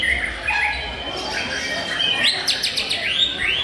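White-rumped shamas (murai batu) sing at a songbird contest, several birds trading bright, rapid chirps and whistled phrases over steady crowd and ambient noise.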